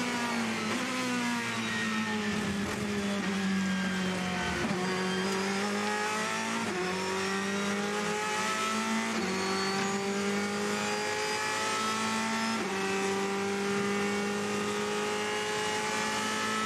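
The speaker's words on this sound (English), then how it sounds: "I do love this Ferrari in the braking and acceleration zone." A Ferrari race car at the 24 Hours of Le Mans (2014) braking and accelerating hard, engine note dropping and climbing through several gear changes, loud and continuous with no speech over it.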